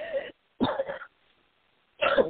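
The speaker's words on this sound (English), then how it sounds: "Start coughing as soon as it's my turn to talk" Three short, harsh bursts of coughing or throat clearing separated by brief silences, close to the microphone.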